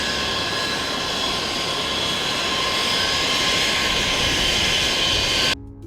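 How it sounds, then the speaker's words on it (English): B-52 Stratofortress bomber roaring steadily at an airbase during Cope North exercises, a loud continuous broadband jet engine rush with whining tones that cuts off abruptly near the end. "B-52 enters an airbase already full of aircraft and personnel for Cope North"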